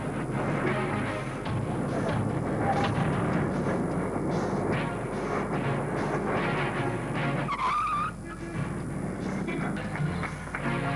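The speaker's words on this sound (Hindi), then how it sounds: "गाड़ी रोको नूरी।" A car brakes hard with tires skidding, a continuous loud screeching and engine rush running through the whole clip with a brief squeal rising near the end.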